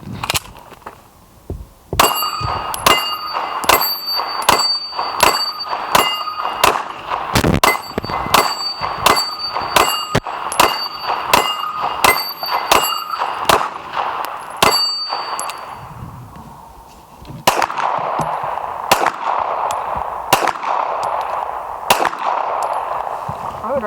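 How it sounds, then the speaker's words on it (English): A Canik TP9SFx handgun firing rapid shots at steel plates, each sharp crack followed by a bright ringing clang, dozens of hits in quick succession, then a brief lull before a second volley with a faint voice underneath. "Put 20 more on the shoot steel plates down there"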